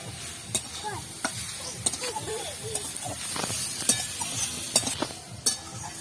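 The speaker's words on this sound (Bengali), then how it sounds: "এটাকে আমি ভালো করে ভেজে নেবো গাজরটাকে।" Grated carrots frying in a pan while being stirred, a busy sizzle broken by repeated sharp scrapes and clicks of the spatula, close and steady, with a voice talking over it.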